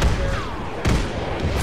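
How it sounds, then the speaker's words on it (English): Bombs exploding in the Arma 3 video game, set in a Warhammer 40K battle: a loud opening blast, then a second heavy boom partway through, with rumbling battle noise filling the gaps. "Those are bombs."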